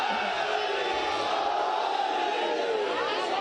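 A large crowd at a religious sermon chants slogans in unison, a sustained, dense roar of many voices that holds steady throughout.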